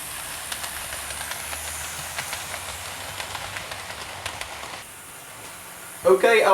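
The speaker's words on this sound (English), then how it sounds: "I'll restart the L1 then, and then we'll have one last running session with these 3 Maunsell locomotives" Model Southern Railway Maunsell steam locomotives running on a layout track, a steady low rolling rumble with light ticking clicks, fading near the end before a brief sharp mechanical clatter.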